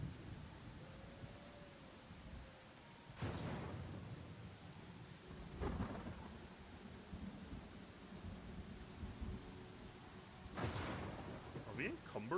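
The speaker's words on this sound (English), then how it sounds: "we are just completely stuck in the storm" Thunder cracks and rumbles over a steady wash of rain during a storm in the video game Pathfinder Kingmaker, with three loud bursts spaced several seconds apart and a faint tone drifting beneath.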